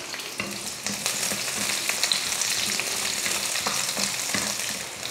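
Onion and garlic sauté in oil in a pan for a South Indian snack recipe, giving a loud, steady sizzle with crackling spatter and occasional stirring scrapes, close up and without speech.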